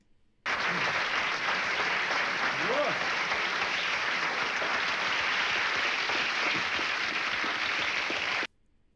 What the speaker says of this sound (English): Let's just watch her now take in the applause.